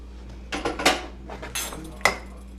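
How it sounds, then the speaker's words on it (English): Eggs cracked and dropped into a bowl of creamed pumpkin cheesecake batter, with a few sharp clinks and taps against the bowl rim and soft wet plops, close and fairly quiet. "So now I'm going to add in my eggs"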